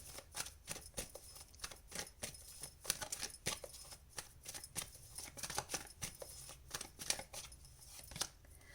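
Tarot cards shuffled by hand in a quiet room, giving a steady run of soft, quick riffling and flicking papery bursts across the whole stretch, fairly faint and close, with no voice.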